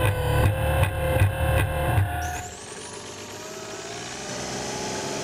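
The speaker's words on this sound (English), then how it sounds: "We are testing out the LS3. It's a robotic mule." The LS3 robotic mule, a load-bearing military robot tested by Marines, runs with a loud, throbbing engine drone and rhythmic pulsing, then the engine tone drops and settles into a steadier hum.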